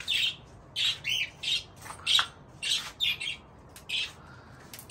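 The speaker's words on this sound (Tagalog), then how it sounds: "Ibon." Harsh bird squawks in quick bursts, about a dozen rapid calls in an uneven rhythm, loud and close over a quiet background.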